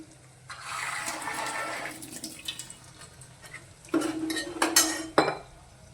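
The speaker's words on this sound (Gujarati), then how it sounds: "હવે આપણે એમાં પાણી નાખીશું." Water pours into a pot of guvar dhokli, a close splashing gush that runs for a few seconds, then a second louder pour with metallic clinks of the pot and utensils.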